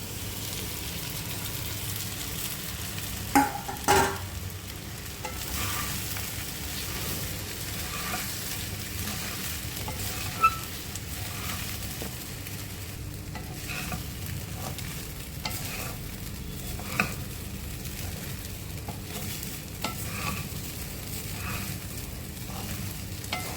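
Sabudana khichdi with peanut powder frying in a pan, a steady low sizzle running throughout, broken by occasional louder scrapes and clinks of a spoon stirring the mixture.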